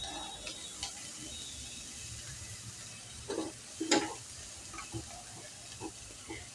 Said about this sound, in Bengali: আমি টমেটোটা এর মধ্যে দিয়ে দিচ্ছি